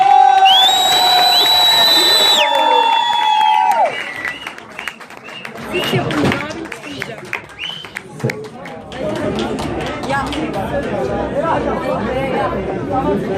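Crowd at a stage show cheers and claps as a performer and dance group are introduced, with an electronic tonal sweep at first, then loud chatter, whoops and clapping mixed together.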